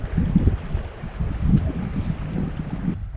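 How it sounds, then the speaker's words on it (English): A river flows and ripples outdoors in fine weather, a continuous low rushing with soft splashy pulses, close and fairly loud, mixed with some wind buffeting on the microphone and no talking. "the water rippling and making its noise as it makes its way through"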